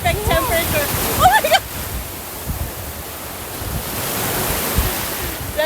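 Ocean surf breaks on a beach at Coral Island, Ko Lan, Thailand, as a steady broadband wash with wind over the microphone. A voice is heard over the first second and a half.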